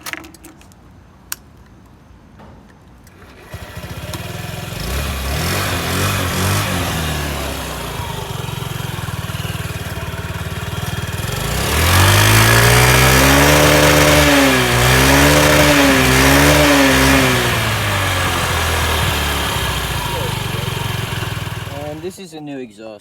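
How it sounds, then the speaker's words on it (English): A 2013 Honda Ruckus scooter on its stock exhaust idles with a steady putter, then revs up and falls back several times, loud and close before it settles again. "stock Ruckus exhaust"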